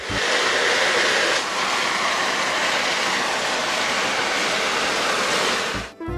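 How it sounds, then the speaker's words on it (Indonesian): A continuous rushing rumble of a toy train rolling along, loud and close, with steady noise throughout and a brief dip near the end. "Di sini ada kereta api."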